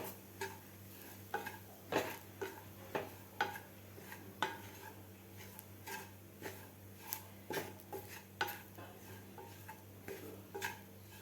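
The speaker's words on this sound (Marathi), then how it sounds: "बेसन आपल्याला खालच्या मसाल्यामध्ये व्यवस्थित मिक्स करून घ्यायचं आहे" Roasted gram flour being mixed into a spice masala in a pan, with rhythmic spoon scrapes and knocks against the metal repeating every half second or so over a low steady hum, close up and without talk.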